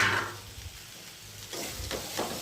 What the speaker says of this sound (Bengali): এবারে দিয়ে দেবো সেদ্ধ করে রাখা ম্যাগিটা। ভালো করে নাড়িয়ে নেবো